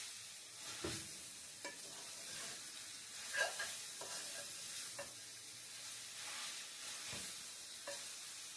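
A spoon stirs radish and fish roe in a pan, producing soft scraping strokes at irregular intervals over a quiet, continuous low sizzle.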